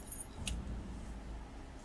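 Keys jangle briefly in the game Contradiction, a short metallic rattle near the start, then fading into a low steady room hum with no voices.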